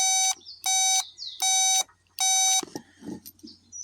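A continuity tester beeps while checking a safety switch on a Kubota during no-start electrical troubleshooting, giving four loud, steady electronic tones with short gaps between them, followed by faint handling noises.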